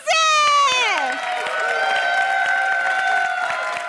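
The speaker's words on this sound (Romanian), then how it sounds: "Aplauze!" A studio audience on the Romanian game show Roata Norocului bursts into loud applause and cheering, starting abruptly and holding steady, with a voice sounding at the start and music or tones running underneath.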